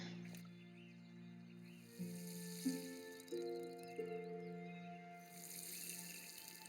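Watering plants in the farming game Wylde Flowers: a soft, steady splash of game water runs for several seconds under light musical tones, with no talking.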